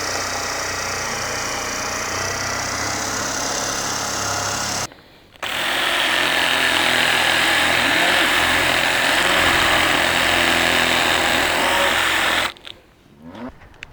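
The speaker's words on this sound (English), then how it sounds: "we start by drilling holes between the tires" A power drill bores holes between large truck tires being joined into a field drag, a loud steady whirring whine that stops briefly, resumes, and cuts off near the end.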